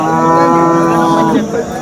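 A cow lows once in a long, loud, close moo at the crowded Sangola cattle market, with a faint murmur of the market behind it.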